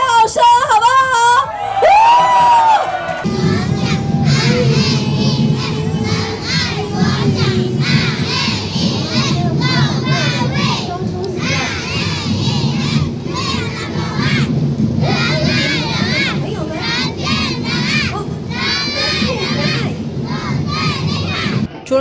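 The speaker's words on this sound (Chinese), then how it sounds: "来一个尖叫声好不好？" A large crowd at an outdoor carnival in Taipei screams and cheers loudly and continuously, with whoops and shouts rising over a steady roar, after a brief amplified voice at the start.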